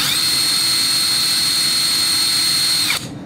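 A PATUOPRO 500NM cordless impact wrench runs at full speed with a steady, loud high-pitched whine, then spins down near the end.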